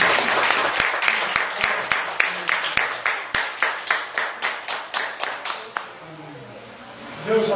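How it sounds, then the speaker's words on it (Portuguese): Applause at a Portuguese-language church service after a prayer. Rhythmic unison clapping runs for several seconds, with a few sharper claps mixed in, then fades out. A voice is heard near the end. "Vamos dar uma salva de palmas."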